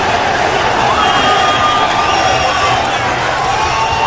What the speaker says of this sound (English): So we are set in front of an enthusiastic crowd here at the Arco Arena.